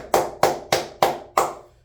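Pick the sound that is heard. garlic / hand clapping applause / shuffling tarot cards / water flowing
hand clapping applause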